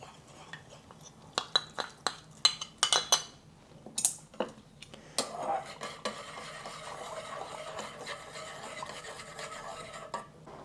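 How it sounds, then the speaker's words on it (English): A cornstarch slurry goes into a simmering General Tso's sauce: a run of sharp spoon clinks and taps against the pan, then steady close stirring over a soft bubbling simmer, with no speech. "I'm going to add my cornstarch slurry"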